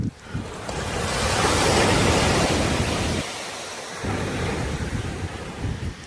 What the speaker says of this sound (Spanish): Aquí pues hay un oleaje bastante fuerte.